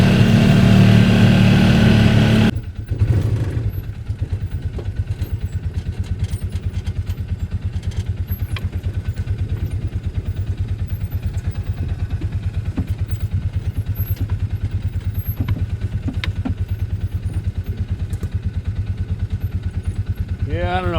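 An engine revs hard while the wheels spin under a heavy load of logs in a wooded pasture, a loud steady clattering drone after an abrupt start, near and continuous.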